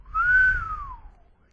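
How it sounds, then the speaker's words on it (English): A single low, loud whistle from a person, sliding gently downward in pitch and fading out after about a second, with no other sounds around it. "Letting out a low, loud whistle"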